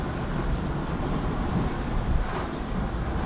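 Steady wind of just under 20 knots rushing over a sailing boat making about 8.8 knots, a continuous dense roar with a faint wash of water beneath, close and unbroken, with no voices.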